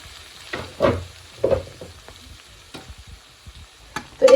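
Prawn curry cooking in a pan with freshly added chopped coriander: a close sizzle broken by several distinct scraping stirs of a spoon against the pan, with no talking.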